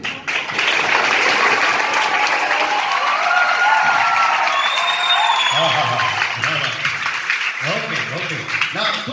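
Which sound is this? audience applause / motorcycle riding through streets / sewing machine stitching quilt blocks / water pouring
audience applause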